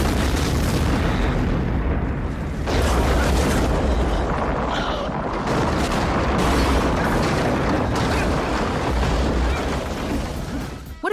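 A massive, sustained explosion in a film roars continuously, a dense rumbling blast with crackling debris that rolls on for several seconds before cutting off.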